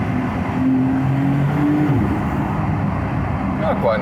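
A Porsche 911 Turbo S, 2020–2021 generation, sounds through a lowered car window as a steady low engine rumble with a brief rising tone, heard alone without talk.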